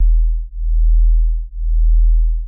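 Pure 40 Hz and 41 Hz sine tones play together, making a deep hum that swells and fades in slow beats about once a second, loud and alone, with no voice.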